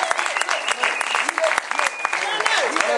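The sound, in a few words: church congregation applauding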